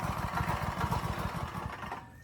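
A tractor engine runs with a steady, fast, throbbing low rumble that stays close and even before fading at the end.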